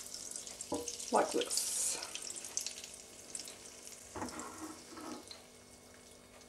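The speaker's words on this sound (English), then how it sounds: "Now that the butter is melted, get some dough and put it into the pan." German pancake batter poured into melted butter in a pan sizzles and crackles in bursts alongside scraping sounds nearby, with a brief spoken comment partway through.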